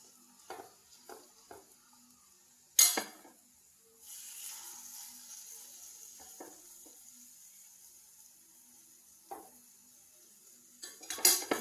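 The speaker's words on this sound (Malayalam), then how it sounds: "നമുക്ക് ഓരോന്നായിട്ട് ഇങ്ങനെ വേകുമ്പോൾ ഇളക്കിയിട്ട് കൊടുക്കാം" A spatula scrapes and taps against a frying pan while carrot, egg and cheese cook in oil, with a soft sizzle underneath and sharp clinks now and then, near and fairly quiet, no voices.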